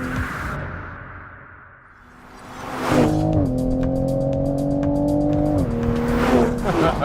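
A 2020 Toyota Supra on a race track approaches faintly, then bursts into a loud, close engine roar with climbing revs, a gear change and rapid crackling pops, plus a touch of tire squeal; no one talks.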